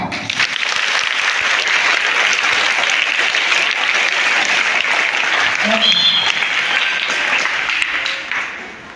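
An audience at a Guru Purnima celebration at a primary school in Hubballi gives loud, sustained applause that fills the room almost without pause and tapers off at the end.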